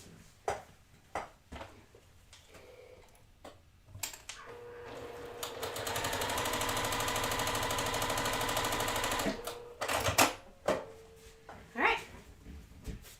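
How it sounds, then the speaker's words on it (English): Sewing machine stitching a quarter-inch seam in fabric, running steadily for about five seconds with a close mechanical whir, framed by clicks and handling noises before and after. "I'm going to sew down a 1/4 inch seam."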